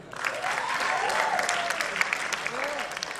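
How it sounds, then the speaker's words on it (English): Crowd of young college women clapping at a self-defense teaching session, a dense steady patter of applause with cheering voices and some talk rising over it. "Please clap for him."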